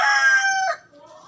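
A nearby fighting cock gives a single loud, clear crow that breaks off into a short cluck, with no voices over it.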